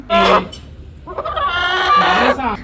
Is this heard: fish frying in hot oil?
no